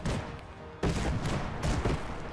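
Artillery volleys fire in the airship combat game Airships: Conquer the Skies, a rapid string of loud booms and thuds rolling into one another, dense and continuous with no voice over it.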